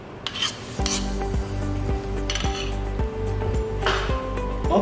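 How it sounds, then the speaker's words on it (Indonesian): Dry ingredient A for a soft Indonesian chocolate bread dough is stirred in a bowl. A close utensil scrapes and clinks against the bowl in a steady rhythm of repeated strokes, with no talking. "di sini untuk bahan A langsung kita aduk"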